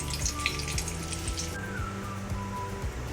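Bay leaf and cumin seeds sizzle and crackle in hot oil in a pan, a bright, close frying hiss with a regular underlying thump.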